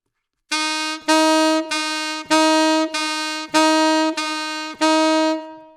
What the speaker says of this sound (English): you're going to play your middle C, and then you're going to play your overtone C.